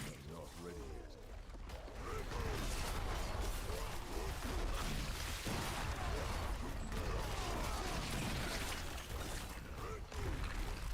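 In Diablo 4, a barbarian rips a sword out with Rupture and gushing bleed wounds explode, giving a continuous dense stream of bursts, crunches and impacts over game music, with a voice talking over it.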